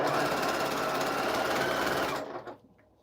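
A sewing machine stitching a jelly roll quilt runs loud and close in a fast, even whir for about two seconds, then winds down and stops.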